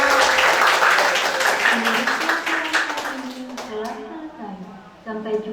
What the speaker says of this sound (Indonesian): Bagus, tepuk tangan buat Bu Soli.